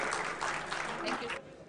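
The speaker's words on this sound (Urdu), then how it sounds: "آپ سب کی بھرپور تالیوں میں خطاب کی دعوت دینا چاہوں گی" An audience claps in a dense, steady wash of applause at a formal speaking event, loud and continuous before tapering off.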